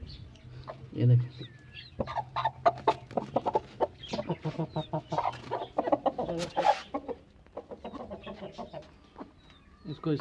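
A hen, lifted by hand from where she sits near pigeons, clucks repeatedly in short close bursts, with some rustling and flapping mixed in against a quiet background.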